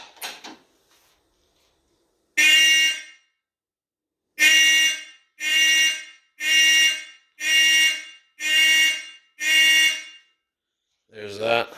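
A vintage Simplex fire alarm system under test sounds a loud electronic horn in repeated, evenly spaced blasts of about a second each after an opening one, followed by a brief voice at the very end.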